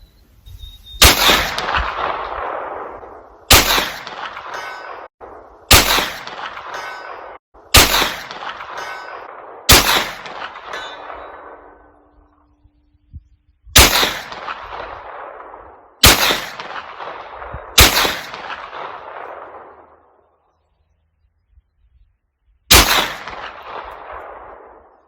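Sharp gunshots from a Ruger PC9 9mm carbine fired outdoors, nine loud reports spaced a couple of seconds apart, each followed by a ringing decay, with a longer pause before the last shot.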